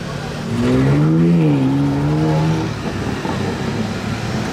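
A sports car with a sport exhaust and four centre outlets drives past on a Monaco street. Its engine tone swells loudly and shifts pitch as it goes by, then fades into background traffic noise.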